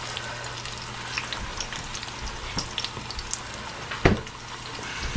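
Food frying in coconut oil in a pan, a steady soft crackle and sizzle with scattered pops and one sharper clatter near the end, close by with no talking.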